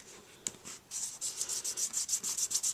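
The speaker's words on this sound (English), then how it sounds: "just kind of rub my fingers in the paint" Fingertips rubbing wet paint on a stamped craft surface for embossing, a run of quick rhythmic swishing strokes that grows steadier and denser, close and soft with no talking.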